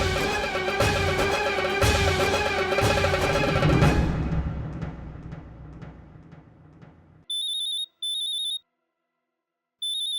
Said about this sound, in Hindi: जिगर फोन क्यों कर रहा है?